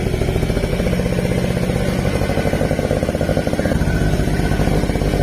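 A cold Quadzilla Buzz 50 quad engine idles steadily and loudly up close, a continuous buzzy, clattering small-engine drone with no pauses.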